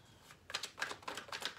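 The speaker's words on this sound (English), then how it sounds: "I'm gonna shuffle this." A deck of cards is shuffled by hand, making quiet, quick riffling bursts in a steady rhythm, close and alone.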